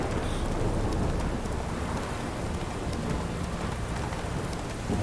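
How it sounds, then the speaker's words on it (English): Steady, dense rainfall in The Witcher 3, a constant hiss of rain on surfaces with no pauses, filling the whole stretch without speech. "rain"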